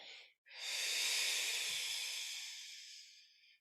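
A single long, steady exhale hisses out through the mouth during a breathing exercise in a hips and core class, preceded by a brief breath. Close and quiet, it fades gradually over about three seconds.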